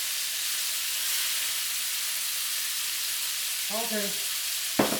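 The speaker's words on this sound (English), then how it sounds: "I'm going to put some sherry cooking wine." Black tiger shrimp sizzle steadily in a pan with sherry cooking wine, a broad hiss throughout, one brief spoken word near the end and a sharp clatter just before it stops.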